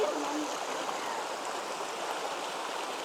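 The stream below Thommankuthu waterfall in January with low water, a steady unbroken rush of flowing water, moderately loud and evenly sustained throughout.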